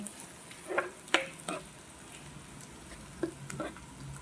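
Onion and garlic fry in a pan for liver steak, cooked outdoors, with a soft continuous sizzle and a few clattering stirs of a utensil up close, without speech.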